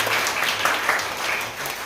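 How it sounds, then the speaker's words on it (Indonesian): A church congregation claps for a guest, a brief, moderately loud patter of hands that holds steady without talk. "Kita berikan tepuk tangan."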